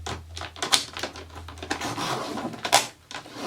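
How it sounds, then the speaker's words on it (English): Dot grid planner paper is trimmed with a series of quick crisp cuts and rustles, close and fairly loud, with a few sharp clicks between and no talking. "So I'm gonna just trim it a little bit"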